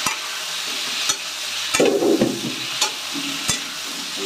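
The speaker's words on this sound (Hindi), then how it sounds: "अब टमाटर को फ्राई होने देती हूँ।" Onion and tomato fry and sizzle in a pan for a cauliflower dish, a steady close hiss broken by several sharp clicks of a stirring spoon against the pan.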